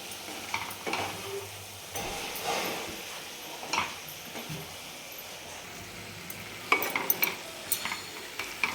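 Fried cabbage and peas sabzi with kasuri methi is stirred in a pan, giving a faint sizzle under intermittent scraping and clinking of a spoon against metal, with a few sharper clatters near the end.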